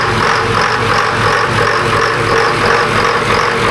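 A Detroit Diesel 453 engine, electronically tuned, idles steadily at close range, a loud continuous low rumble with a constant droning hum and no voices.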